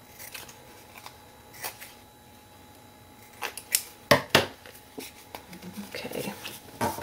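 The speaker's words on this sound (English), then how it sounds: "Trim this large side first so that you have as much left to use as possible, then trim these" Scissors trimming the paper of a paper bag book, giving quiet snips and rustling paper, with a few crisp cuts bunched together partway through and soft shuffling around them.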